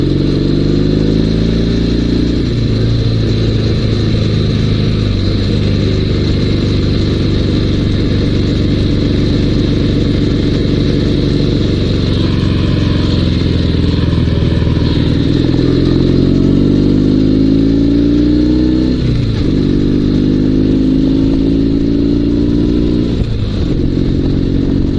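A Dnepr sidecar motorcycle engine running with suspected fuel or carburetor trouble, a loud, continuous close-up mid-pitched drone with slight wavering and a few dips in speed.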